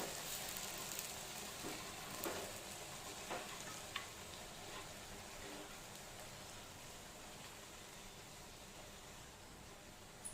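Okra (lady's finger) cooks in a pan with a faint, steady sizzle and soft, scattered stirring scrapes, quiet and close, with no voices.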